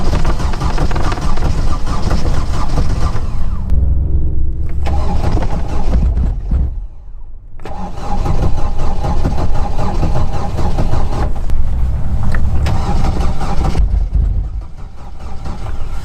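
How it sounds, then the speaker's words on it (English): A Mercedes-Benz T1 van starved of fuel in Russian winter cranks and catches, roars loudly for a few seconds, cuts out into near silence, then fires again and keeps running rough and loud. "Apparently the fuel still cannot reach the engine because it starts and then it still stops."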